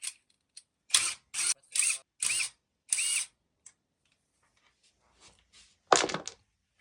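Impact wrench loosening the wheels of a BMW X3 with broken springs, heard as five short, loud, buzzing bursts of about half a second each in quick succession, followed after a pause by one louder final burst.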